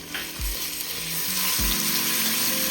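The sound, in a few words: ginger garlic paste frying with onions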